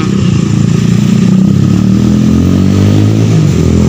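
A motorcycle engine revs loudly and steadily up close, its exhaust rumbling throughout with no pause, on New Year's Eve night in the Brebes town square.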